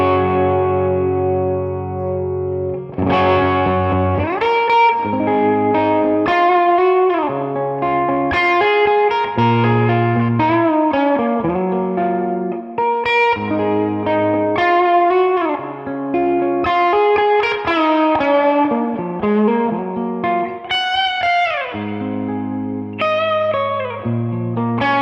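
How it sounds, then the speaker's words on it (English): Semi-hollow electric guitar on its bridge pickup plays a clean, natural tone without fuzz, a steady run of plucked notes and chords alone after a brief pause, with a touch of reverb. "let's just hear some more organic tones from this guitar"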